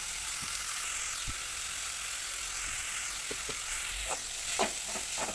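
Chopped tomatoes sauté in oil for a curry leaf and garlic tamarind kuzhambu, giving a faint, steady sizzle with occasional soft stirring scrapes toward the end.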